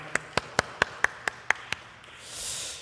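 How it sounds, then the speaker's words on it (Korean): Eight sharp, evenly spaced claps ring out one at a time during a church service, crisp and close, followed by a soft hiss. "우리 하나님께 영광의 박수 올려드리겠습니다"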